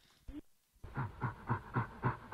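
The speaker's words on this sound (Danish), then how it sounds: "Det er orangutang." Orangutan call played as a sound-quiz item: a brief grunt, a pause, then a rhythmic series of about six panting, huffing calls at a steady beat, fairly close and alone with no talk.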